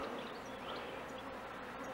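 Honeybees buzzing around a newly settled hive, a steady soft drone of many wings close by, with occasional individual bees passing, no voices.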